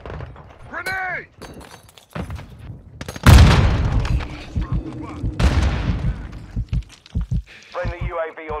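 Grenade explosions and gunfire in Call of Duty Warzone Mobile, with a heavy boom followed by scattered blasts and shots, while voices shout callouts between them.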